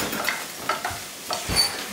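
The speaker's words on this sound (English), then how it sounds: "So I'll go into my pan with a stick of butter, and once this melts, in with some milk powder" A stick of butter melting and browning in a pan gives off a faint, soft sizzle, broken by a few light scraping stirs and clicks from a utensil.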